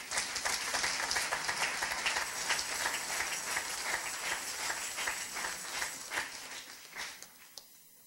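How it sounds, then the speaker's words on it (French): A congregation at an Easter church service claps together in a dense, lively patter that holds steady for several seconds, then thins out into scattered final claps and fades. "On applaudit le Seigneur."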